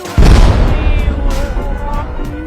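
A sudden deep boom bursts out and then rumbles away over the next couple of seconds.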